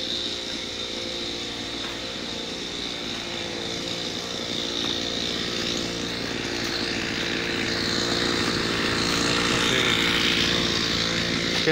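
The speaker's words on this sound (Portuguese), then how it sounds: "Esquentando o motor aí." A brush cutter's small two-stroke engine idles as it warms up before clearing brush on a rural property, a steady buzzing drone that grows slightly louder toward the end, with no talk over it.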